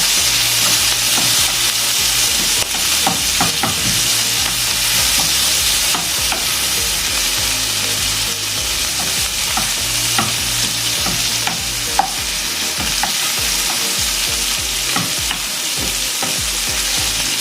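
A mung bean dish with malunggay is stir-fried in a pan, giving a continuous loud sizzle with repeated scraping and clinking strokes of the utensil throughout.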